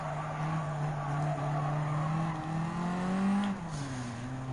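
Tires skid and slide on a 2017 Suzuki Swift Sport in Gran Turismo 7, a sustained squeal over a steady engine drone, with the pitch sweeping as the car drifts through a braking zone.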